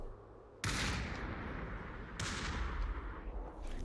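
AK rifle fire in the competitive VR shooter Population: ONE: two loud, sustained bursts of automatic gunfire erupt after a brief quiet moment, each one rolling on for well over a second and dense with crackling reports.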